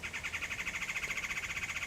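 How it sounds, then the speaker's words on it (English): A different bird calls outdoors, giving a fast, even trill of repeated high pulses at moderate volume, unbroken from start to end. "Okay, well, that's a different bird noise."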